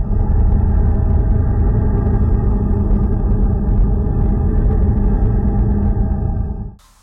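Sonified space signals from the Moon form a dense, steady low droning rumble with layered tonal hum, loud and continuous, then fading out abruptly near the end, with no voices.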